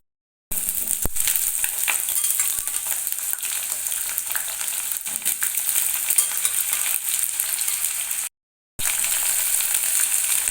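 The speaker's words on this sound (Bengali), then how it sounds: "আলুর টুকরোগুলোকে দিয়ে দিলাম কড়াইয়ের মধ্যে ভেজে নেওয়ার জন্য" Potato pieces sizzle in a wok with black cumin over a high gas flame, a steady loud hiss of frying with faint stirring scrapes, broken by a brief silent gap near the end.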